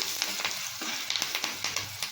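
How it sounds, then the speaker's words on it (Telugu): Steady sizzling of spices and turmeric frying in a pan, with repeated light scraping and clinks of stirring, close up and with no talk. "కొంచెం ఫ్రై చేయాలి"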